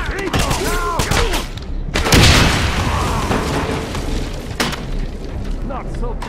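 A grenade blast in the Wolfenstein HD video game, a loud broad boom near the two-second mark over continuous battle noise and scattered gunfire, with voices shouting throughout.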